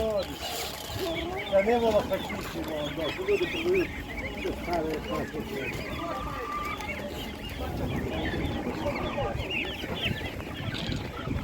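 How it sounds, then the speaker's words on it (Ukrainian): Laying hens for sale at a Ukrainian poultry market cluck and squawk in bursts near and far, mixed with geese-like honks, while people talk over them. "ось такі несучки по 130 гривень"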